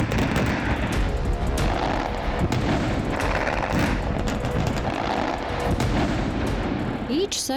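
Heavy ore blasting at the Albazino gold mine, a dense, continuous rumbling roar of explosions and booming that fills the whole stretch, loud and sustained with no quiet between blasts.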